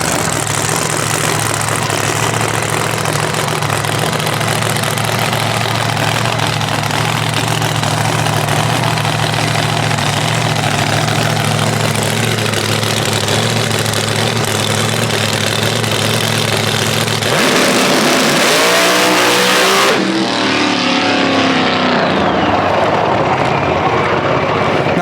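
A 500HP K-Series hatchback engine idles loud and rough with a steady low drone, then revs up sharply near the end in a rising, roaring sweep, very close and dominant.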